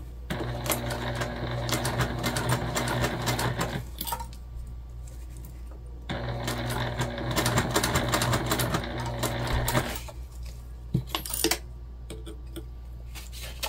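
Close, rapid whirring stitches of a sewing machine sewing fabric around corners just outside a line of staples, in two long runs separated by short pauses with small clicks and handling noises.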